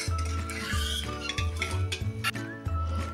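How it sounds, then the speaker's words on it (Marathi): Ash gourd sherbet with cumin powder is stirred in a vessel, a spoon scraping and clinking against the sides in an even, repeated rhythm of roughly every half second, close and clear with no speech. "आणि आता हे एकसारखं हलवून घेऊया."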